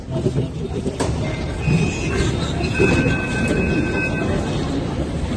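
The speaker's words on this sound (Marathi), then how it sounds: "मेट्रो मध्ये आज चाललेलो होता" Rumbling interior of a Pune underground metro train running through a tunnel, a steady loud roar with faint high whines and squeals of wheels, carried on continuously throughout without pause.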